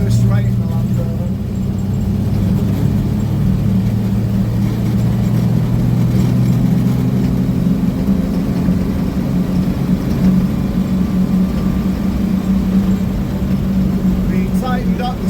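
Engine of a 1 ton 109-inch Series Land Rover while driving, a loud steady low droning rumble with cabin noise that runs continuously throughout, close and unbroken.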